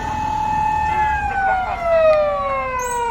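An ambulance siren wails along a busy traffic street in a residential area of Japan, a steady two-tone sweeping wail that drifts lower as it passes, with road traffic beneath.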